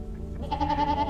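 A goat bleats once nearby, a loud wavering call that swells and trembles for about a second.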